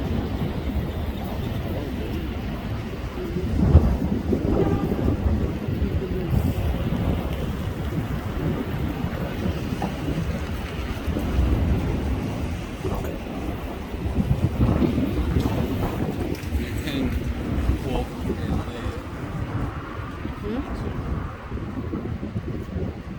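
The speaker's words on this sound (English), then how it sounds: "if you look at how fast the river is running" The flooded Nepean River at Penrith, New South Wales, runs fast in March 2022 as Warragamba Dam releases water, a loud, continuous rushing roar that swells and eases, with gusts of wind buffeting the microphone.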